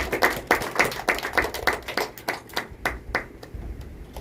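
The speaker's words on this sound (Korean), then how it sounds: "하나님께 영광의 박수 올려드리겠습니다." A church congregation claps during a Sunday worship service, fairly close, with a quick rhythmic patter of hands that thins out toward the end.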